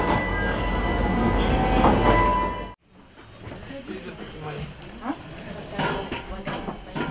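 New passenger railway carriages of the 'Prostory Altaya' suburban train departing the regional capital's railway station, with a loud rumble cutting off abruptly, then quieter rolling clatter and clicks under someone narrating in Russian.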